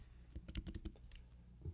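Quiet, quick keystrokes tap on a computer keyboard as credit card details are entered, a short irregular burst of clicks close by.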